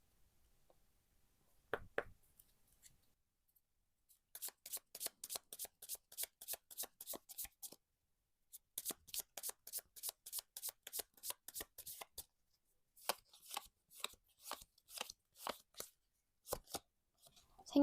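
Lenormand cards are shuffled for a reading in quick riffling bursts, each a rapid run of crisp card flicks close up, with brief pauses between runs and no talking.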